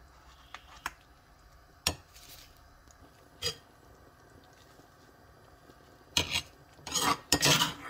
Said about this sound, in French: Je vais retirer le piment que je vais écraser.